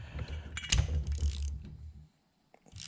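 A fitting is tightened down on a Blackhawk Paramotor Lite Trike with a Kestrel V3 and Talon 190, giving a close burst of ratcheting, clicking metal mechanism for about two seconds, then a pause and a faint further click.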